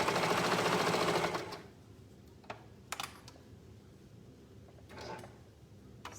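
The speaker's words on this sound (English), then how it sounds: "we'll go ahead and sew up that inseam by sewing up one leg, across the center, and then down the other leg." Sewing machine stitching the inseam of a pair of shorts, a brief close whir that stops after about a second, followed by faint clicks and handling noises in a quiet room.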